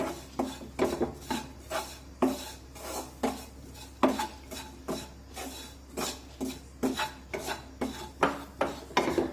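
Spoon scraping and stirring sorghum flour with turmeric and coriander in a pan, a steady series of rhythmic rasping strokes about once a second, close and fairly clear over a low hum.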